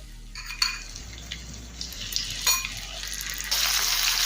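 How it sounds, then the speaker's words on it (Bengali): Paneer pieces fry in a small amount of oil in a frying pan, giving a steady sizzle with a few light clinks of a utensil, and the sizzle swells louder near the end. "পনির পিসগুলো ভাজার জন্য আমি একটা ফ্রাই প্যানের মধ্যে তেল নিয়েছি।"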